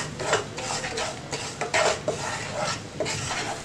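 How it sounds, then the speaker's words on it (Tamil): A spoon stirs cinnamon powder into syrup in a pan for sweet makhana snacks, giving close, repeated scraping and clinking strokes at a steady rhythm with a faint sizzle beneath and no talk. "இப்போ கொஞ்சம் கலக்கி விட்டுட்டே இருங்க"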